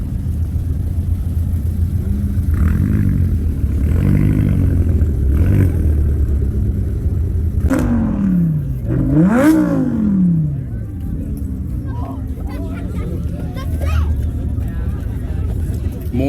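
At a car meet rev battle in Draper, Utah, a car engine revs hard in rising and falling sweeps, with a rumbling exhaust idling underneath and crowd chatter and voices in the background.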